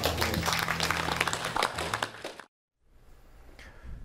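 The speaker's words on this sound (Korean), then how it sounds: "좀 박수 좀 부탁드립니다" Audience applause at a Korean address breaks out as a dense, sustained round of clapping, then cuts off abruptly into a short silence followed by faint room noise.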